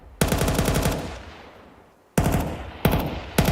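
MP9 submachine guns firing in the Counter-Strike video game, loud rapid bursts of automatic fire, one long burst followed by a ringing decay, then shorter bursts in quick succession.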